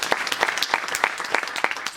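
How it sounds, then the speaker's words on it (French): Audience at a magic show applauding, a rapid patter of many hands clapping at moderate volume, steady and slightly distant for about two seconds. "On peut applaudir un mélange de Julie, si vous voulez."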